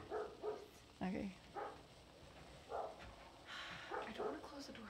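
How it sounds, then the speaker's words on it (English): A dog barks and yips in short bursts indoors, fairly faint and mixed with background talk. "Yeah, it's just the dog."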